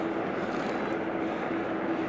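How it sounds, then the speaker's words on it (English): An air ambulance helicopter drones overhead in a steady, continuous rumble with a faint high whine, no voices, holding at a moderate level throughout. "It's the air ambulance."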